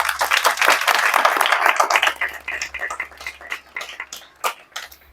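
A burst of applause from an audience at a speech, loud at first and then thinning into scattered individual claps, with faint murmuring underneath.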